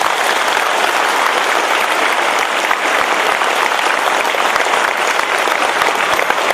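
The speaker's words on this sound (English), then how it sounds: "Give a big clap to Kama." An audience breaks into sustained applause, a dense, even wash of clapping that stays loud and close throughout with no voices rising above it.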